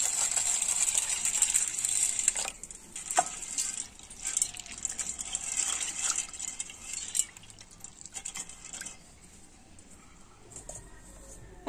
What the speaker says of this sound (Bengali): ছোলার ডালটাকে এখন ভালো করে ধুয়ে নেব।